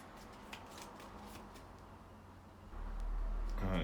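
Board game supplemental cards being shuffled by hand at a table, a soft riffling and rustle that swells louder and busier near the end, with no voices.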